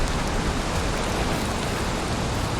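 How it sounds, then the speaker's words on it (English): Rain falling in the video game Valheim, a dense, steady broadband hiss of downpour that carries evenly from start to finish with no voices. "It's raining."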